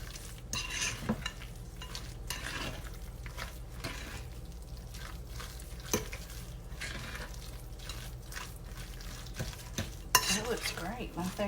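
A spoon stirring and scraping through a loaded roasted potato salad with sausages in a bowl, with soft, irregular scrapes and light knocks against the dish, quiet and close, no talking.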